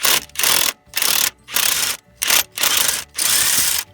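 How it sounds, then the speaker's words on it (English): An impact hammer driving out an exhaust manifold bolt on a Volkswagen/Audi 1.8T engine, firing in six loud, close rattling bursts separated by short silent gaps. "we can take it out the rest of the way with the impact hammer"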